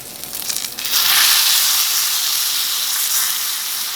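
A T-bone steak sizzles loudly in a cast iron pan, right after being flipped: a rough crackle surges into an intense, steady hiss that holds close and constant.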